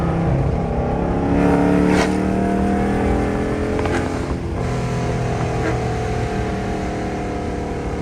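A rebuilt 392 Gen 2 Dodge Charger engine rumbles and revs nearby, with a couple of light, sharp throttle blips over a steady, throaty idle.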